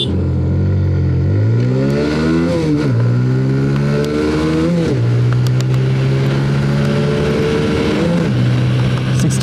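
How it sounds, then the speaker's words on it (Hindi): A TVS Apache motorcycle accelerates hard from first gear, the engine revving up loudly in rising sweeps, then dropping as it shifts up through several gears and climbing again, close and continuous with no voices. "फर्स्ट गियर पर डाल दिया है बाइक को"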